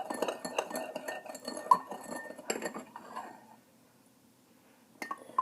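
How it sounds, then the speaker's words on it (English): A spoon stirs sugar into hummingbird nectar in a container, making dense clinking and scraping against the sides for about three seconds. A pause follows, then a few more clinks. "Okay, so now stir. It should be a little tough to stir at first."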